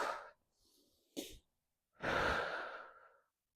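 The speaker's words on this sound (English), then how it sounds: "exhale." Breath pushed out hard and long, twice, by a woman doing core-engaging postpartum recovery exercises, a short puff followed by a stronger, sustained exhale, close and clear with no talking.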